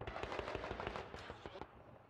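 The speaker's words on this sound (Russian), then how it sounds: "бронетранспортеры БТР-82А ведут боевую стрельбу в движении из 30-миллиметровых автоматических пушек" BTR-82A armoured personnel carriers fire 30 mm automatic cannons while on the move, a rapid rattling burst of distant shots that stops near the end, with a narrator talking over it.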